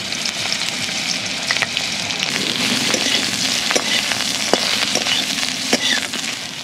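Eggplant pieces fry in oil in a wok, giving a steady, close sizzle punctuated by occasional clinks and scrapes of stirring.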